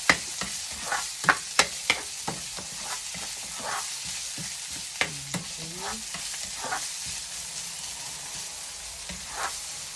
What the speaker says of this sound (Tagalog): Gisara ni nga kuan, guys, gisa nga patchoy. Patchoy nga ginisa.